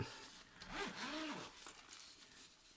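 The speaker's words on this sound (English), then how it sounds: "we're going to flip it around and we're going to unzip it" A zipper pulled open on a nylon carry bag for a Bomaker GC555 LED projector, one quiet drawn-out zip with a rising and falling scrape, close and alone.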